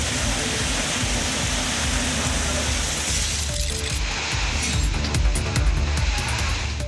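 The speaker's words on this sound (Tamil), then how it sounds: "புதுச்சேரியிலும் கனமழை பெய்தது." Heavy rain pours steadily in Puducherry, a dense continuous hiss with occasional clinking drops on hard surfaces, loud and unbroken throughout without voices.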